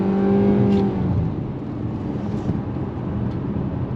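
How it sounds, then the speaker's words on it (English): A 2025 Nissan Kicks SV subcompact SUV accelerating under throttle, its engine rising in pitch through stepped simulated shifts heard from inside the cabin, then settling into a steady whir. "On throttle, here we go. Simulated shifts."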